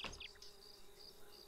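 Bees in the video game Lakeview Cabin give off a faint, steady droning buzz with a few brief higher whines near the start, continuous and quiet with no talk.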